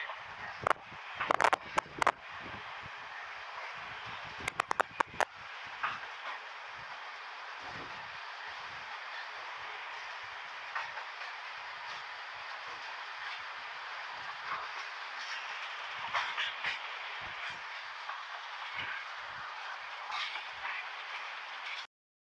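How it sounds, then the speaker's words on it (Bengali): An Egarasindhur Express train entering Gachihata railway station in Bangladesh makes a steady rumble heard from aboard, with sharp metallic clanks and rattles early on and scattered knocks over the continuous noise. "আপনারা দেখতে পাচ্ছেন গচিহাটা প্রবেশ করতেছে ট্রেনটি"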